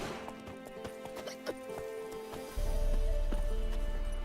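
Roach the horse gallops in The Witcher 3: Wild Hunt, with a steady run of hoof clip-clops under game music, and a heavier rumble joining partway through.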